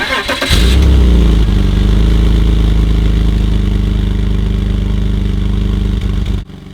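A BMW 330Ci with an M54 inline-six, suspected of a head gasket or oil leak with exhaust smoke, cranks and fires close by, then settles into a loud, steady idle before cutting off abruptly near the end.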